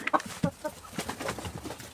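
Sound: chickens

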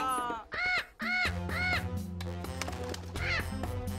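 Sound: parrot squawking

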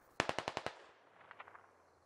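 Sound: gunfire in a video game (SquadOps)

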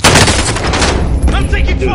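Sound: gunfire in a video game

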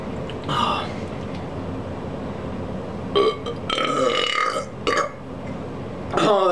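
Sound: man burping

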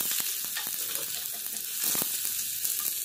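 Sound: chopped onions frying in oil in a pan

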